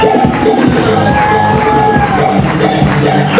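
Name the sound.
audience applause and cheering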